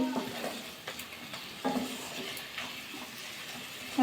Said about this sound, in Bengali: আর একটু কষিয়ে নেব শিম মরিচটা দেখুন ভালো করে কষিয়ে নিয়েছি তেলও বেরোচ্ছে দেখুন মশলা দিয়ে